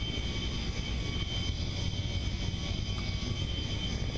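A Me262 jet aircraft's engine flying in BeamNG Drive drones steadily with a dense, continuous roar and high whine, loud and close throughout with no talk.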